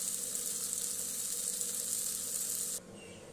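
Eggs sizzle in a pan of spiced curry as they cook into an egg curry. A loud, continuous frying hiss runs steadily for almost three seconds, then drops off sharply to a quieter simmer.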